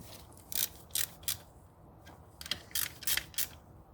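Ratchet clicks from tightening 10 mm bolts on a fuel injector tool during a BMW fuel injector replacement, several short bright bursts in two clusters, close and fairly quiet, with no talking.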